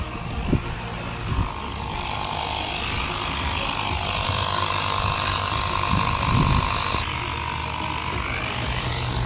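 A portable air compressor runs while inflating the front left tyre of a SEAT Leon 1M Cupra, giving a steady, buzzy mechanical drone that builds, holds for several seconds and then cuts off abruptly, followed by quieter background hum.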